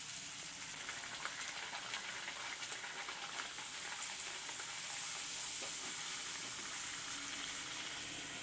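Beetroot poori frying in hot oil gives a steady, close, hissing sizzle that stays even throughout, without talk.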